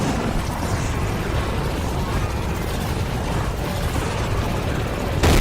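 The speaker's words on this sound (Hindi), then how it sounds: "यहाँ पे धमाका हो चुका है बहुत तेज" A huge explosion rumbles in a Godzilla monster battle, a dense, sustained roar of blast noise that holds steady throughout, then jumps louder at the very end.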